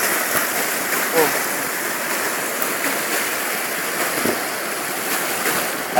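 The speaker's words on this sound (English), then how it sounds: "That sacred waterfall behind me" A sacred waterfall on the Bogon river, a steady rushing roar of falling water close by, with a voice speaking faintly beneath it.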